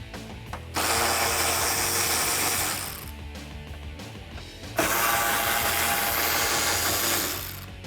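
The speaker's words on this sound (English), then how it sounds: "I'm just going to use my 10mm socket again to remove the 3 bolts that hold the headlight into place" Ratcheting clicks and mechanical tool noise from a 10mm socket removing the bolts that hold a headlight on a 2005-2009 Ford Mustang GT, in two dense bursts separated by quieter gaps.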